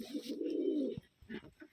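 Rajshahi Giribaz pigeon cooing up close, one long rolling coo followed by a few shorter soft coos, with no talk.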